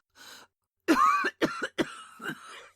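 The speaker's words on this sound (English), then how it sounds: "A terrible hollow cough interrupted her words." A woman coughs hollowly in a series of harsh, separate bursts: a faint short one, then three or four louder barks in an uneven rhythm, close and alone.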